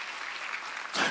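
A short burst of congregation applause during a Korean church sermon, a dense wash of clapping that swells louder at the very end of the brief moment.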